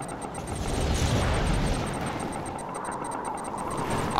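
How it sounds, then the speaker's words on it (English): Tiberium explosion in Command & Conquer 3: Kane's Wrath, a loud, broad rumbling roar that swells and holds steady for several seconds, with a faint voice underneath. "Tiberian explosion detected."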